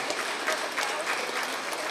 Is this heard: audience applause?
yes